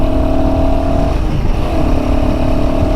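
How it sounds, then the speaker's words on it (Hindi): A Royal Enfield Himalayan 450 motorcycle engine drones steadily and loudly while accelerating in fourth gear at speed, with heavy wind rush over the rider throughout. "थोड़ा सा बाइक को स्पीड पे लेके जाता हूँ।"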